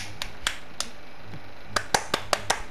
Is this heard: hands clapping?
yes